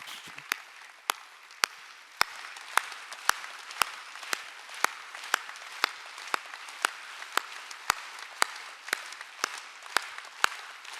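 Sparse, rhythmic clapping during a Sunday church worship service, sharp evenly spaced claps from what sounds like a few people, moderately faint and continuing steadily without talk.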